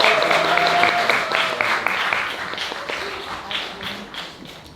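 Audience applause for two speakers at a Korean talk concert on deinstitutionalization, a dense, steady patter of many hands that gradually thins and fades toward the end.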